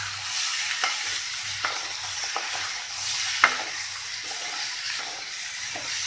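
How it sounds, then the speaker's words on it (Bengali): Green jackfruit frying in oil in a pan with salt and turmeric, an even close sizzle punctuated by repeated soft scraping stirs and a sharp clink of a utensil. "এই তেলের মধ্যেই আমি ইঁচড়টাকে একটু ভেজে নেব।"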